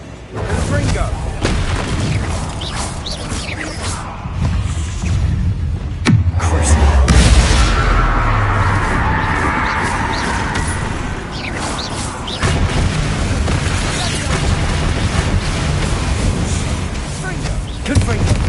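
A Confringo fire spell in Hogwarts Legacy erupts as one heavy, rumbling boom about a third of the way through, set amid ongoing game ambience, effects and spoken voices.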